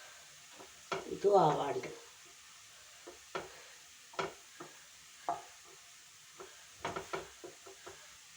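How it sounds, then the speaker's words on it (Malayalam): Nendran banana pieces frying in a pan until golden brown, with a soft sizzle beneath scattered stirring scrapes and knocks, and a brief spoken remark near the start. "ഇത് രണ്ടും ആവാത്തത് നല്ലോണം മുരിയണം, ഗോൾഡൻ ബ്രൗൺ ആവണം"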